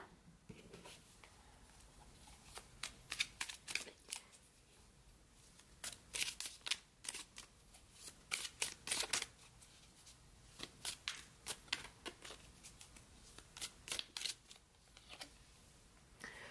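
Tarot cards being shuffled for a reading, a run of quick, crisp riffling bursts with brief pauses between them, quiet and close, with no speech.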